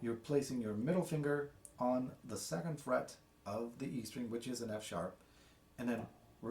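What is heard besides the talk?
No everyday noise stands out behind the speech.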